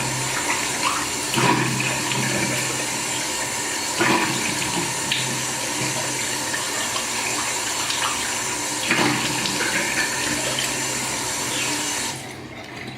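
Tap water runs steadily into a sink as a face is washed after shaving with a safety razor, with a constant close rush and occasional splashes before the flow cuts off near the end.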